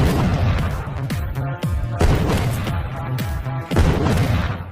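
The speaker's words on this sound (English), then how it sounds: "The sound of gunfire immediately alarmed the sheriff" Pistol gunfire in a film, with several loud sharp shots and booming reports spaced through a tense scene, sounding close and reverberant over a busy background.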